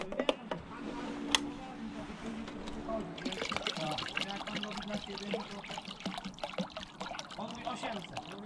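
Distilled water trickles and glugs as it pours from a jug, a steady splashing stream with a voice murmuring underneath.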